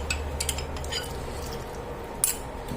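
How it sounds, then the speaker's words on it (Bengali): A spoon scrapes and clinks against a pot while potol curry with added yogurt is stirred, producing light metallic taps and soft squelches, close and fairly quiet. "দিয়ে একটু নেড়ে দিচ্ছি।"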